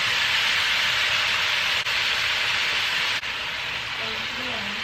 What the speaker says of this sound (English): Now we're gonna go ahead add the turkey neck to this burnt curry, and we're gonna sear the meat for about 5 minutes